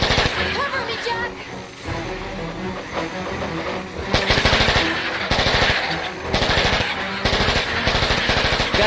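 Machine gun fire in the King Kong video game: dense rapid bursts of automatic gunfire, loud and close, repeating in several long volleys with short gaps, over engine-like rumble and scattered in-game voices.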